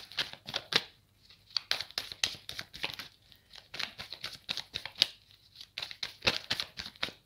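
Tarot cards shuffled and handled for a three-card draw, giving a quiet run of crisp papery snaps, rustles and flicks in quick irregular bursts, close to the microphone with no talk.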